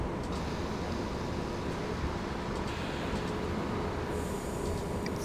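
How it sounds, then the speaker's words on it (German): A train rumbles past in Train Simulator 2019 on the Rügen island line, a steady low rolling rumble with faint wheel squeal and metallic ticks, moderately quiet and without talk. "Vorsichtig, Achtung, hier kommt ein Zug"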